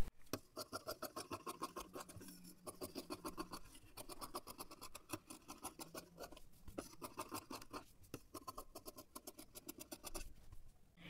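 Scissors cut blouse fabric along marked lines for a 38-size princess blouse, a steady run of close, scratchy snipping and rasping strokes with brief pauses, no voices.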